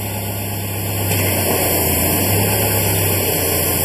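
A Subaru car engine starts and runs steadily in gear, a continuous low hum with a slight rise in level after the first second, heard alone with no talking.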